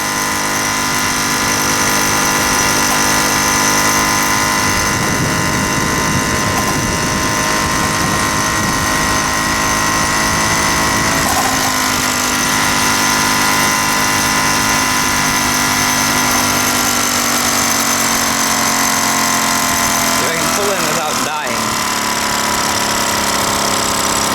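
A VeloSolex 3800 moped with a tiny 0.7-horsepower motor runs throughout a ride, giving a loud, continuous buzzing drone with a steady pitch, close to the listener and with no talking.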